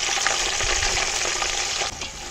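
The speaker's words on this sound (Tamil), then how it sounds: "இப்போ நம்ம நறுக்கி வச்சிருந்தோம் இல்லையா, வெங்காயம், பச்சை மிளகாய் இது ரெண்டுத்தையும் போட்டுக்கலாம்." Sliced onions and green chillies frying in hot oil for chicken biryani make a loud, close, continuous sizzle with faint stirring underneath and no talk.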